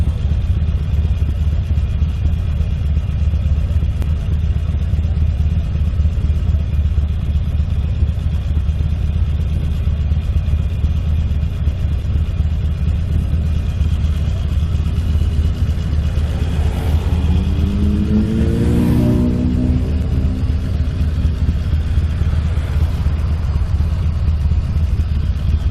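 Motorbikes crowd the Calne Bike Meet, with a constant low engine rumble and background chatter. One bike revs and passes nearby partway through, then the steady idling drone carries on.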